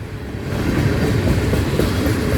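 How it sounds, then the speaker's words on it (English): A BNSF mixed freight train rolls past close by, a loud, continuous rumble with rattling and clattering wheels and no speech. "Ooh, it's a mixed freight train."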